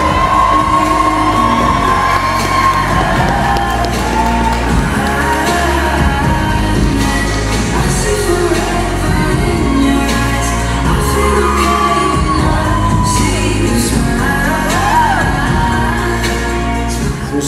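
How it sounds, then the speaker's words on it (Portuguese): Crowd shouts and whoops rise over loud music at a debutante ball held in a mansion, a busy, continuous mix of cheering voices and party sound. "uma salva de palmas pra nossa princesa"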